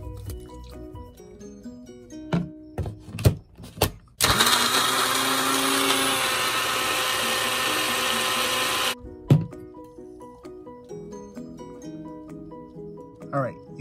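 A blender whirs loudly and steadily for about five seconds while mixing a Dollar Tree shake, with scattered clunks and knocks before and after the run.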